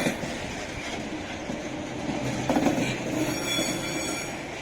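Heavy freight train of roughly 35 to 38 wagons hauled by an SD70 locomotive rolls past close by, a continuous loud rumble with faint wheel squeal and steady clatter, no voices.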